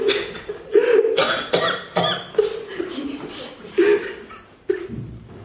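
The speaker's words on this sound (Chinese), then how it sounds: "我怎么听到有人在咳嗽？" A father coughs repeatedly in a fit of harsh, uneven bursts with short gaps between them, heard fairly close.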